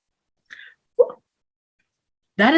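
A man sneezes once, loud and close, after two short faint vocal sounds in an otherwise quiet room.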